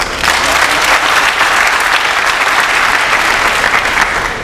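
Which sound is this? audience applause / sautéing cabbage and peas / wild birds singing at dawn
audience applause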